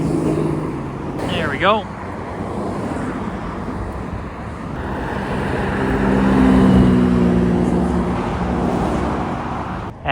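A new Koenigsegg supercar approaches and passes during Monterey Car Week, its engine note rising into a loud, sustained roar that builds toward the middle and fades, with a brief voice and crowd noise around it.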